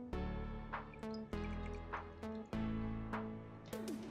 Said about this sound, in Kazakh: Енді міне жаңағы біздің картошкамыздың суы, қараңыздар, суын сырқытамыз.